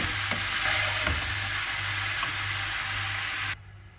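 Onion stalks and cauliflower frying with salt over an outdoor BBQ hiss in a steady sizzle with a low hum and a few soft knocks, then cut off abruptly.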